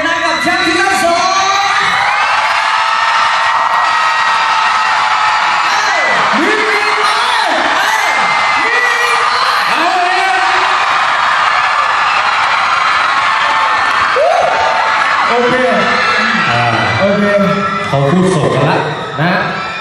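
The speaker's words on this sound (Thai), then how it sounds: "ท่านแรกขอเสียงนะครับกรี๊ดดังๆ" An audience at a Thai comedy show screams, whoops and cheers loudly and continuously, with a host's voice heard over the crowd.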